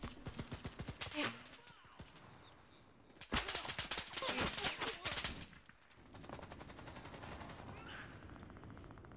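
Gunfire in the World War II shooter Enlisted: rapid automatic bursts rattling in rhythmic strings, with one loud sustained volley in the middle and quieter distant firing afterward.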